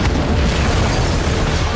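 Continuous loud explosions in the Just Cause 3 video game, a dense, rumbling barrage of blasts that fills the whole stretch with no pause and no talk.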